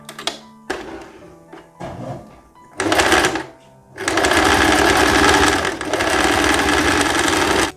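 A sewing machine stitches the facing of a blouse with flared sleeves and shirring, starting with short stuttering bursts, then running in long, loud, continuous passes close by.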